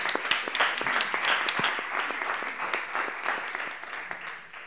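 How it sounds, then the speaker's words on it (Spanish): A small group applauding at an informational session, a dense patter of hand claps that holds steady for a few seconds and then thins out slightly. "Un aplauso para Alberto, ¿no?"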